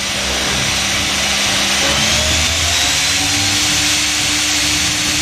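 The spindle of a 2012 Haas ST-10T CNC lathe spins up toward 6,000 RPM. Its loud, steady machine roar rises slowly in pitch, close to the microphone, with no talk.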